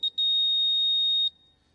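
A quiz buzzer pressed during a team buzzer test at a junior grand finale competition, giving one brief blip followed by a steady electronic beep of about a second, loud and alone.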